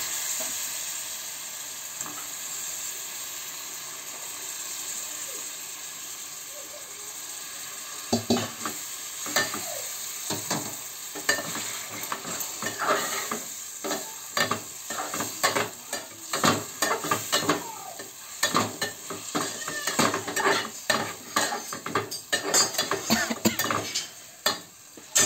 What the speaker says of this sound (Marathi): कालवं टाकूया।